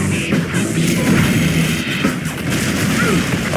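A deep, rumbling sonic boom from a jet bomber in the game Command & Conquer: Generals Zero Hour rolls through, thick and sustained, with a roaring low-end wash and no speech.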